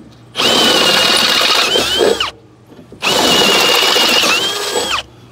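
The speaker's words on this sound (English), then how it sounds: "I'll do that one with the step drill so you can see it." A step drill bit bores through metal during a flatbed hydraulic hoist install, whining loudly in two long bursts of about two seconds each, with the bit catching and straining near the end of each cut.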